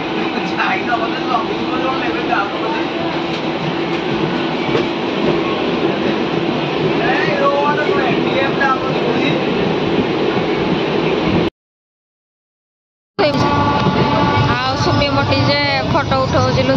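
A passenger train rolls steadily along the rails, its loud, continuous rumble and clatter carrying from inside the coach, broken by a brief gap of silence before the running noise resumes.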